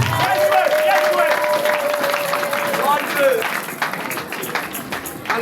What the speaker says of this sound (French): on applaudit pour nous tous, pour tout le monde.